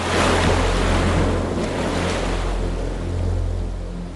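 Open-ocean waves of three to four and a half metres roar and wash continuously during an aircraft ditching reenactment, loud and near, with a gusty wind rumble.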